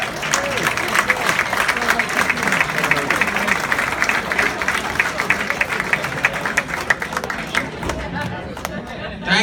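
Comedy club audience applauding and cheering for a comedian, a dense, loud, continuous round of clapping with crowd murmur underneath throughout.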